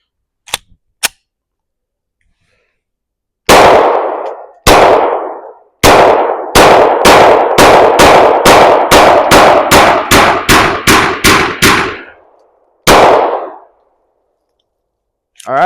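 A Glock 22 pistol fitted with a 9mm barrel shooting pumpkins outdoors: two quick shots, then a rapid string of about fifteen loud, sharp, close gunshots, a pause, and a final shot.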